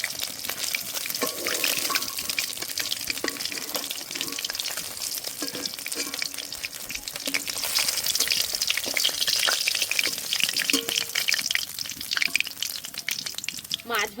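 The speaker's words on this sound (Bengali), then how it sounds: "মাছগুলো ভালো করে ভেজে নিয়েছি, এবার তুলে নেব।" Katla fish frying in hot oil, a long crackling sizzle with bursts of spatter and occasional clinks, close and fairly loud throughout.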